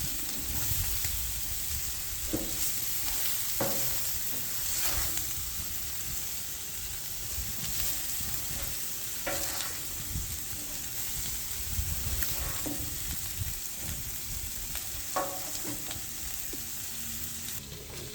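Steelhead fish frying in a pan, a continuous moderate sizzle with occasional soft pops and utensil taps, steady throughout with no voices.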